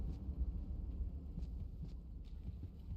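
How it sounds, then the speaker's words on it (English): A car monster in Look Outside: a steady low rumble that throbs nearby and carries on without a break, with faint higher scrapes now and then. "that sounds like there's another car monster around here"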